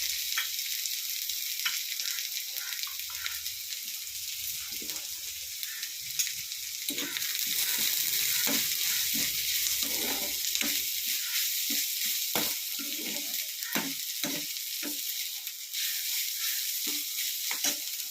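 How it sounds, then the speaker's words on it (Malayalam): Onion, green chili and grated coconut sauté in a pan for a leaf thoran, a constant bright sizzle with intermittent soft scrapes and taps of a stirring spoon, with no talking. "ഉള്ളി, പച്ചമുളക്, തേങ്ങ എല്ലാം കൂടെ ഒന്ന് വഴറ്റിയെടുക്കുക ആദ്യം"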